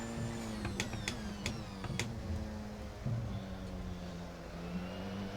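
A fast hybrid race car in a sim racing video game accelerates hard, its engine note a steady mid-pitched drone with brief sharp clicks early on, continuous and fairly loud throughout.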